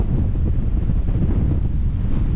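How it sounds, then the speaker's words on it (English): Strong wind buffets the microphone in a loud, constant low roar with no pauses. "it's very windy now"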